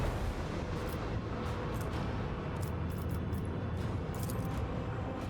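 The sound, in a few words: macro cannons firing in video game Warhammer 40,000: Rogue Trader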